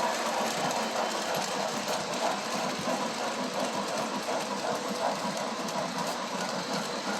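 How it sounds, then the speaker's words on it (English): A Kansas City Southern diesel model train runs on a layout, making a continuous rumbling, rattling rail noise with a steady motor drone that stays close and fairly loud throughout, with no talking. "And there's the Kansas City Southern Diesel running on the bottom 3/4 of the layout."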